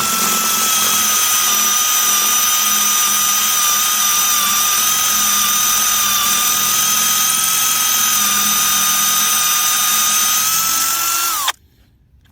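A power drill whines steadily and loudly close by, drilling out a broken screw on a Suzuki LT125 ATV, holding one pitch for about eleven seconds before cutting off abruptly.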